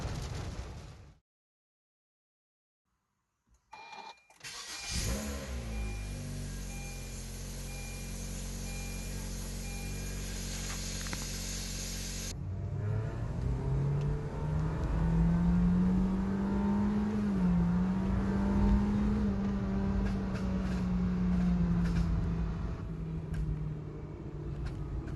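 Car fitted with an Ironcrafts downpipe and frontpipe exhaust: a brief silence, then a steady loud idle drone, followed by a sustained rev that climbs and holds with a strong, rising exhaust tone.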